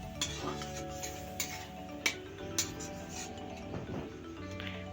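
A spoon stirs and fries spice paste in a pan for a Bengali broccoli katla fish curry, with soft scraping and a few sharp metallic clinks over a low, steady cooking background.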